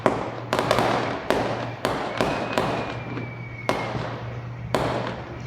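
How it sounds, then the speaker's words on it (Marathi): Festival firecrackers bang sharply in a village, about eight separate cracks at irregular intervals, some echoing, over a low steady hum, with no voices. "सगळीकडून असले फटाक्यांचे आवाज रात्रीपासूनच"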